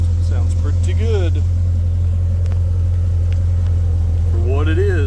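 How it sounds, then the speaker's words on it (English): Exhaust of an LS-swapped old-body-style truck idling nearby: a constant deep, loud rumble throughout, with a person talking over it at the start and near the end. "Exhaust sounds pretty good"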